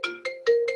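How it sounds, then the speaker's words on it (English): A phone ringtone goes off during a Zoom call, four short rising electronic tones in a quick repeating pattern, clear and fairly loud with no talk over it. "I don't know whose phone that is."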